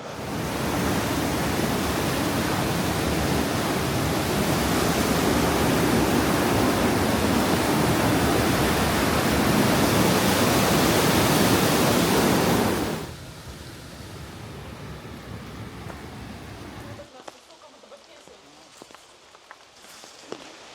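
Light rain patters steadily near a waterfall in Cornwall, a loud, even hiss for about thirteen seconds that then drops to a softer wash and fades quieter still near the end.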